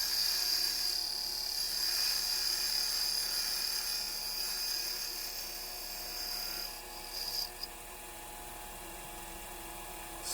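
A Porper Q-Lathe Model B makes fine, small cutting passes, giving a faint, steady high-pitched whine and hum with a brief change and a few small clicks toward the end.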